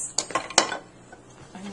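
A spoon scrapes and clinks against the bottom of a pot, gathering the last lasagna sauce: a few quick metallic scrapes close by, then quieter scuffing.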